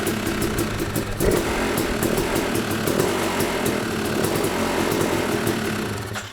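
A Yamaha YZ250 two-stroke motorcycle fitted with electric start runs after firing up, a buzzing, steady engine drone heard close with light revving and no talking.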